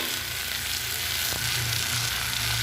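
Mustard paste frying in hot oil for a catla fish curry, a dense, loud crackling sizzle close by, continuous throughout with a faint scrape of stirring.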